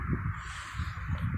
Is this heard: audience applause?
no